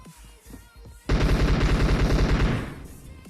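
Rapid automatic gunfire in a shooter video game erupts loudly after a short quiet stretch, a dense burst of shots lasting over a second before tapering off.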